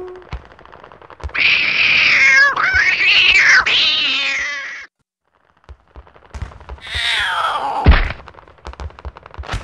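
A cat in the video game Battlefield 4 lets out loud, drawn-out meows and a wailing caterwaul, with a pause between the cries and scattered gunfire-like pops around them. No one speaks.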